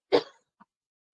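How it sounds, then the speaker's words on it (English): A single short cough, close and fairly loud, followed by a faint tiny sound, then silence. "I'm coughing a little bit"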